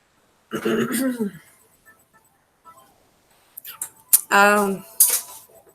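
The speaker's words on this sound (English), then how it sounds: "why are you throwing fucking things at the coffee maker" Objects strike a coffee maker, giving a few sharp clinks and knocks alongside short bursts of voice and a throat clearing.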